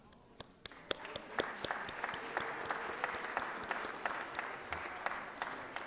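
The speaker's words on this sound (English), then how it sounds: "let's give them an applause" Scattered clapping from a crowd in a state senate chamber builds into steady applause, moderately distant, with a few sharp claps standing out near the start.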